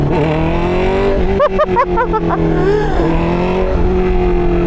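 A Honda CB650R E-Clutch motorcycle fitted with an upgraded air filter runs close by with a loud, smooth engine note that rises and falls through quick revs, steady and unbroken by speech.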